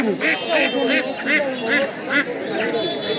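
Ducks and ducklings quack repeatedly in quick, overlapping bursts close by at a village market, with voices talking and bargaining among them.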